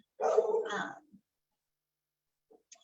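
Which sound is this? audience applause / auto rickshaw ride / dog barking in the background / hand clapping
dog barking in the background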